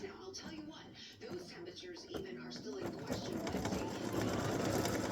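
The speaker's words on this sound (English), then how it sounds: "it's going to stitch the text U" An embroidery machine stitches lettering for a Valentine's Day gnome mug rug made in the hoop, a steady close mechanical buzz of rapid needle strokes that builds louder toward the end, with a faint voice.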